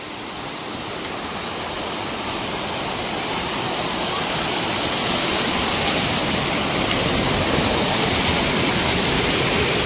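A forest waterfall near Katta, Malvan in the Konkan roars in a loud, constant rush of falling water, building slightly in volume, with no voices.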